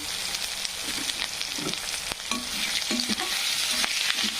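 Curry leaves sizzle and crackle in hot oil for a pulao masala, with steady close frying hiss broken by short pops and a few stirring scrapes, no voices.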